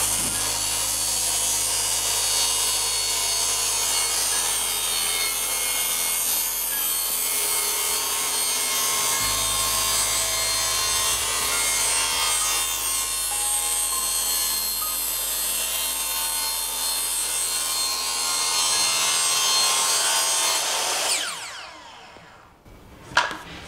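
A circular saw guided along a jig cuts through wood, a loud sustained whine and rasp running steadily for about twenty seconds before spinning down and stopping near the end, during work on fitting flooring inside a converted shipping container.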